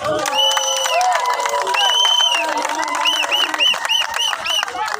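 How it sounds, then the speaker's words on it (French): Crowd at a union general assembly cheering and clapping, loud shouts and whoops rising over scattered applause in a lively, noisy room, with voices calling out throughout. "Applaudissez quand même."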